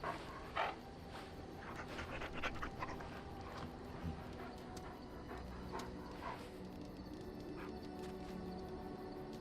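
A dog in the video game Dragon Age: Origins pants steadily and rhythmically, soft and fairly close, with a few small whimpers mixed in over a low background.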